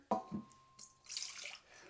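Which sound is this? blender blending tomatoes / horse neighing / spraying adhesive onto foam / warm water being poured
warm water being poured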